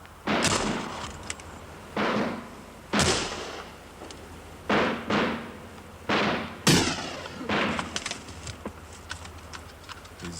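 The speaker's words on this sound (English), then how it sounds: "That shot came from above." A series of sharp, loud gunshots fired from above in a film scene, about eight cracks spaced irregularly over ten seconds, each with a booming echo that trails off.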